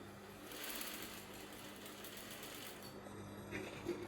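A sewing machine stitches a princess dart bustier pad, its close, steady motor whir running continuously and unbroken for the whole stretch.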